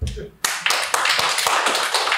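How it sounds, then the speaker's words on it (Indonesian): Hand clapping breaks out on a podcast set, with several sharp claps and taps over a dense, lively background and people talking over it. "tepuk tangan nih"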